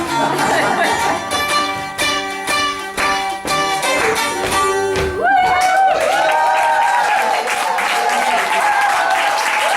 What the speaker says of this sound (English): What a rowdy crowd.